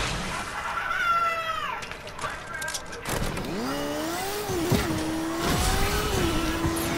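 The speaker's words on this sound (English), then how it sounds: "oh yeah, and a new bike." A motorbike engine in the Fortnite video game revs up in rising and falling sweeps, close and fairly loud, with a person talking over it.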